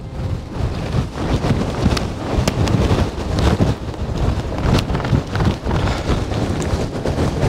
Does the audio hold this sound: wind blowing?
yes